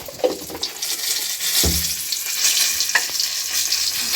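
Whole cumin seeds, green cardamom and cinnamon sizzle steadily in hot oil for a home-style Bengali dish, a continuous bright crackle with a brief louder spit near the middle and no voices.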